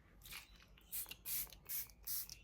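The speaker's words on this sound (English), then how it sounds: "I will then go back in with setting spray" Setting spray mists onto a face in four quick close pumps in the second half, each a soft hissing burst, after fainter rustling at the start.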